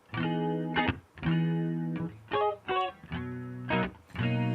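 Electric guitar chords and short muted strums through a standard Waves compressor, evenly levelled and sustained with little swell or decay, played alone in a steady pattern.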